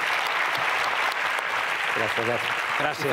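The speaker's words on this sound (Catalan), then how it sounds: "Un aplaudiment" Audience applause for a speaker at the mSchools CET 2023 event, a steady dense clapping wash filling the whole clip, with a voice briefly speaking over it near the end.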